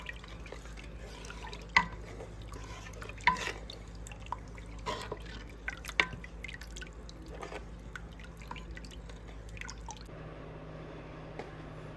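Shrimp and grits are stirred in a pot on the stove, giving faint, scattered wet clicks and squishy drips over a quiet background hum, with no talking.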